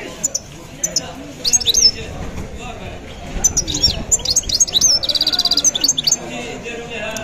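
Several birds chirp and tweet in quick bursts, some rapid trilling runs, over a low background rumble with faint voices at a Moroccan bird market.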